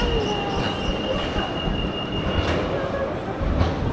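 A train runs along rails in Denmark, its wheels giving sustained high metallic squeals over a loud continuous low rumble and roar, heard close from on board.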